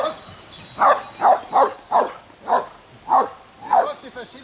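A dog barks in a regular series of about eight close, sharp yips and woofs spaced under half a second apart.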